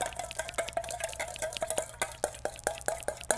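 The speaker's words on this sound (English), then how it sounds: "Give that a nice whisk." A whisk clicks rapidly against a bowl while a salt and black pepper seasoning mixture is beaten, giving quick, fairly faint, close taps in a steady rhythm.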